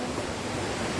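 River water flowing in a steady, continuous rush with a broad hiss, close and fairly loud, with no voices over it.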